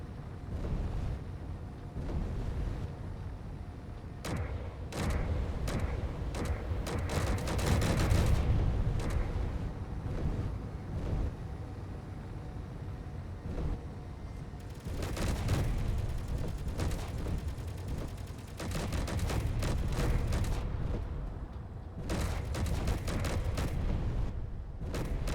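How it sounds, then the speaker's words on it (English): Automated turrets firing at floating mines near a storage facility in the Space Engineers video game, rapid bursts of gunfire and booming impacts in repeated clusters over a low rumbling background. "turn on your turrets, and it's going to attack the buoys, the mines, as you see here"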